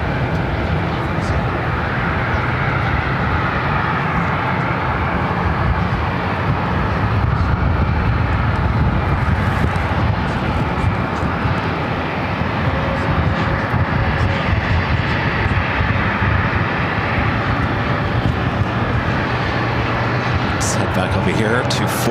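A small CRJ regional jet at Phoenix Sky Harbor airport, its steady engine roar and broadband jet noise filling the whole stretch at a constant, fairly loud level, with no clear rise or fade.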